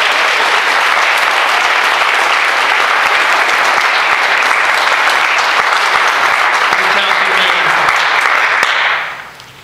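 Sustained, loud applause from a benefit concert audience for a performer, a dense wash of many hands clapping steadily for about nine seconds before quickly fading out.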